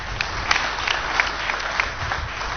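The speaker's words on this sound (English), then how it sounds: "Give her a round of applause." A round of audience applause during a church teaching session, brisk continuous clapping with scattered sharper claps standing out, close and fairly loud.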